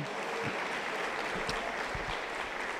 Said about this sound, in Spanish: Fuerte aplauso, contento para el Señor Jesús